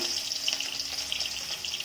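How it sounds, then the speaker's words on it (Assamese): Turmeric-and-salt-rubbed fish sizzles in hot oil in a kadai, a dense steady crackle with bubbling pops, close and continuous without voices. "তেলখিনি গৰম হোৱাত মই মাছখিনি ভাজি লওঁ।"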